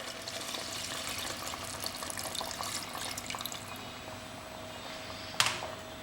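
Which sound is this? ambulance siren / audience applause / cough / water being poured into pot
water being poured into pot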